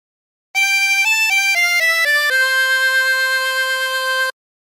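A 16-hole tremolo harmonica plays a short La Cucaracha phrase, a quick run of reedy, wavering notes stepping up and down before settling on one long held tone, loud, close and unaccompanied.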